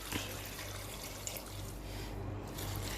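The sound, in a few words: water poured into pressure cooker with tapioca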